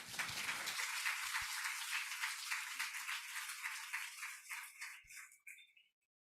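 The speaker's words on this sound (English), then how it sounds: "Please give a round of applause to Dr." A conference audience applauds a speaker with a steady, moderately close wash of clapping that thins out near the end and stops.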